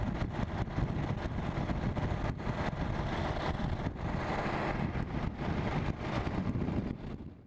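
A go-kart runs on a track at the MusselMan Honda Circuit, a constant loud engine drone mixed with heavy wind buffeting on the microphone, close and continuous, no talking.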